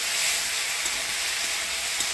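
Taro stolons fry with ground spice paste in a pan, producing a loud, dense, continuous sizzle that holds steady for the whole short stretch, close up with no voices.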